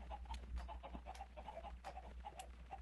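Chickens cluck repeatedly in a crowded Minecraft swimming pool, a steady cluster of short clucks over a low constant hum with no talking.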